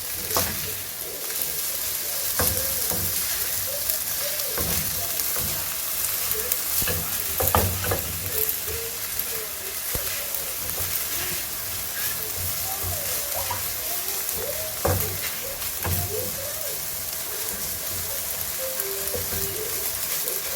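Browned rice and cup noodles are stirred in a hot pan, giving a loud, steady sizzle with repeated scraping stirs throughout and a faint voice now and then.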